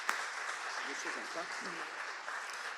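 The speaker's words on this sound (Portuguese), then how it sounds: "Vamos aplaudir ao Senhor, queridos." A church congregation applauding, a steady wash of clapping at moderate distance while a voice speaks over it.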